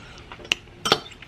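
A spoon stirring dried parsley into chicken soup in a pot, giving a few short metallic clinks against the rim, close and clear.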